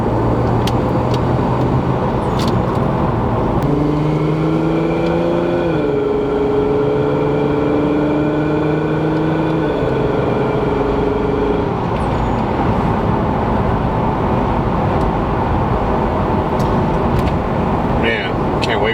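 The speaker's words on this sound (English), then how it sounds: "this wastegate is so loud" A Lexus IS300 fitted with a CX Racing turbo kit runs loud on a drive, with a steady roaring engine drone and rising and falling turbo whine under people talking inside the car.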